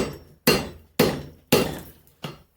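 Four hard hammer blows fall at an even, deliberate pace on hot steel during a forge weld on an axe, each a sharp ringing strike with a short decay, close and loud, with no talking.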